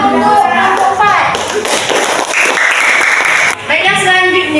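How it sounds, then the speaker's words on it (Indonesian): A classroom of students applauding a presenting group during a lesson, with dense steady clapping mixed with chatter and voices throughout. "Tepuk tangan untuk kelompok 4."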